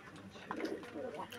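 Pigeons at a pigeon farm, including Rajshahi Giribaz, roller and racing breeds, give brief low cooing calls close by, faint and short, with a voice talking over them.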